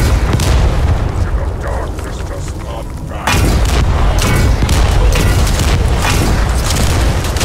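Bomb explosions in The First Descendant video game, loud, dense booming blasts that run continuously, with a brief dip before the rumble surges again.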